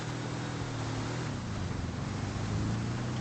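A cheap car driven in a roleplay video game, its engine a steady low drone with a shifting pitch, continuous and fairly loud throughout with no talk.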